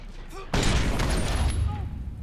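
A grenade explosion and gunfire in the Watch Dogs video game: a sudden loud boom erupts and rolls into sustained crackling blasts and shots, with a voice talking faintly before the explosion.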